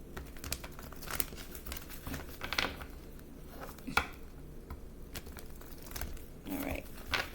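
A deck of cards is shuffled close up, with irregular crisp riffles, taps and crinkly snaps in uneven bursts and no speech.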